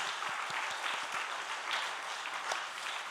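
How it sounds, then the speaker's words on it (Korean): A congregation at a Friday church prayer meeting gives a round of steady, dense applause that holds throughout, with a few sharper claps standing out near the front. "우리 박수 한번 하겠습니다"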